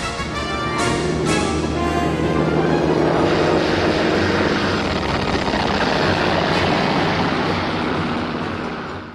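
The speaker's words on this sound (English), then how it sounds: "Aircraft were now launched from the surviving carrier" A steady, loud roar of aircraft engines as planes launch from the World War II Japanese carrier Hiryu, with a continuous dense drone that holds for the whole stretch and no voices.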